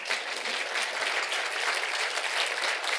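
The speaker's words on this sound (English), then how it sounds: "Everyone, please give them a big round of applause." Audience applause for a panel of technology leaders at the close of a council discussion, a dense, even wash of clapping that holds steady for the full three seconds with no voices.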